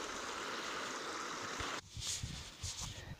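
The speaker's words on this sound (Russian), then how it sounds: "Но ручей нормальный." Water pours steadily through a stream at a beaver dam as a loud, continuous close rush. It then cuts away to quieter flow broken by scattered splashes and knocks.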